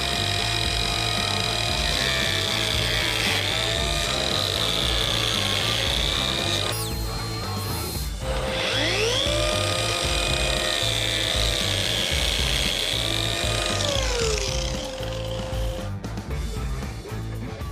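Einhell TE-BJ 18 Li cordless biscuit joiner cutting into a wooden workpiece, a loud steady motor whine with rising and falling pitch as the blade plunges, running almost continuously with a short break midway and no talk.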